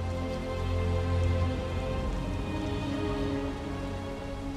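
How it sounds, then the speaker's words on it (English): Steady rain pours down continuously in the video game Detroit: Become Human, a dense hiss of falling drops with a low rumbling undertone, no voices. "Can he actually feel the rain?"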